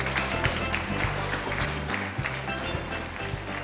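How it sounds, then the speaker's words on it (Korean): A modest crowd claps to welcome a young presenter from a Jeungsando dojang in Busan, soft scattered applause over a low musical backing throughout. "부산 가야도장 장윤호 도생님을 큰 박수로 맞이하겠습니다"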